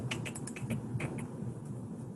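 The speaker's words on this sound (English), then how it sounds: "I maybe hear someone typing." Keys on a computer keyboard are typed in a quick, irregular patter of faint clicks, heard over a steady low background hum during an online training session.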